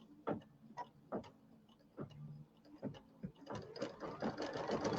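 Sewing machine stitching quilt pieces together for a bench pillow, a close rhythmic mechanical thumping in short runs with pauses, speeding into a steadier whir near the end, no talking.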